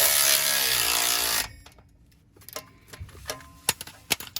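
Exhaust bolts are tightened with a 17 mm wrench. A loud, dense mechanical whirring opens, then gives way to a sparse series of sharp metallic clicks and taps close by.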